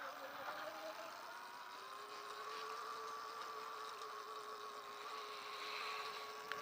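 A dirt bike engine revs and holds a steady drone during sound checks at a hare scramble race, heard from a moderate distance with a slowly rising pitch and a constant outdoor background.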